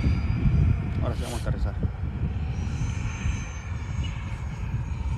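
Remote-control F-22 Raptor model jet flying overhead, a steady whining engine drone under wind noise, with a voice briefly talking early on.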